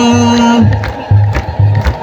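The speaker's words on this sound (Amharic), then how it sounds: "የታል እልልታ" A crowd at an Ethiopian Orthodox hymn gathering ululates in bursts, high trilling calls rising in short repeated waves over low rhythmic tones, loud and close.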